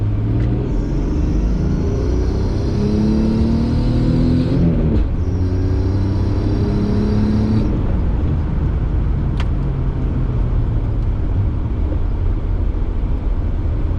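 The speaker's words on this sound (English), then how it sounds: "You can hear the supercharger." A supercharged 1994 Jaguar XJS with a 4.0-litre straight six pulls hard in second gear, its engine note climbing steadily with a high supercharger whine on top. After a brief shift the note sinks into a loud, steady cabin drone.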